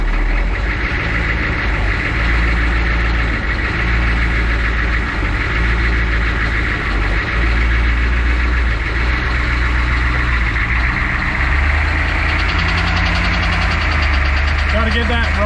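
A cheap, blown-up Humvee engine idles after cranking, a steady low diesel rumble with a faint knock running throughout, loud and close, with people talking over it.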